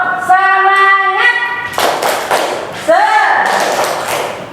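Children in a second-grade primary school classroom chant and clap the rhythmic 'tepuk semangat' cheer, voices shouting over a series of loud, closely spaced hand claps.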